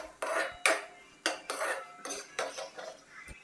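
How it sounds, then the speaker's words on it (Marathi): A metal spoon stirs semolina and cooked pineapple pieces for Maharashtrian pineapple shira in a pan, giving close, irregular scrapes and clinks against the metal, several strokes a second, with no voices. "मिक्स करून घेऊयात"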